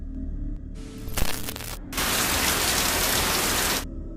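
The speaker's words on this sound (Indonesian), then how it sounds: "Malam pun tiba dan hujan kembali turun dari langit." Night rain pours down in a steady hiss, starting in bursts and then settling into a dense, even downpour for a few seconds before cutting off abruptly.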